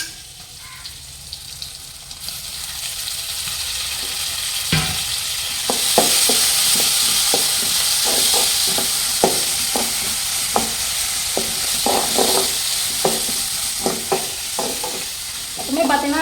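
Tomatoes sizzle loudly in a hot pan for a village-style fish curry, with a steady bright hiss and a string of sharp taps and scrapes as a spoon stirs repeatedly.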